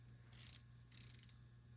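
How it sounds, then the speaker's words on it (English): An Anbull flex head ratcheting tube wrench clicks close up in two short bursts of quick, crisp, slightly dry ratchet clicks separated by a brief pause, with no talking. "The ratcheting doesn't sound too bad. Sounds a little dry, but doesn't sound bad."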